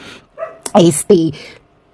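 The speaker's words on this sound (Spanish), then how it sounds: "son mis bebés peluditos los que están ladrando" Pet dogs barking and yipping indoors at home, a few short sharp barks in quick succession close by, loud against a quiet room.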